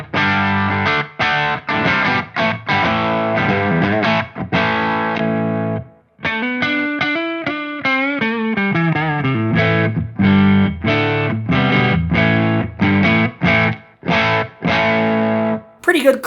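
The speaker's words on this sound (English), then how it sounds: "Pretty good clean edge of breakup tone." Electric guitar played through a Synergy 800 amp with the gain at nine o'clock on the bottom channel, giving a clean edge-of-breakup tone: strummed chords and a bending lead phrase, loud and close, with no talking.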